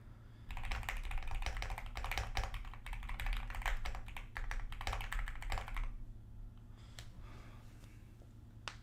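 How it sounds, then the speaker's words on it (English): Rapid clattering keystrokes on a computer keyboard during coding practice, close and continuous for several seconds before trailing off into a few faint taps and a breath. "I just have to type it."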